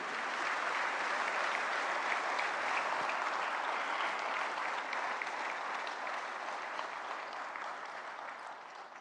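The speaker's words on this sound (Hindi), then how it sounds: "तालियों की गड़गड़ाहट रुकनी नहीं चाहिए।" Sustained, dense applause from a large audience welcoming Prime Minister Narendra Modi at a government event, steady and loud throughout the nine seconds, tapering only slightly at the end, with no talk over it.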